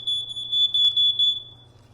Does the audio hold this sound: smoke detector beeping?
yes